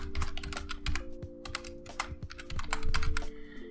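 Rapid keystrokes clatter on a computer keyboard as a bundle identifier is typed for an iPad app build, dense irregular clicks at close range over a faint steady hum, with no voices.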